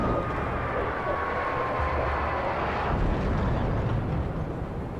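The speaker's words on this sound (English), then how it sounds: "That they just destroyed the whole helicopter." A helicopter is torn apart in the Alan Wake video game, producing a dense, sustained roar of rumbling, engine-like noise and destruction that stays loud and steady throughout.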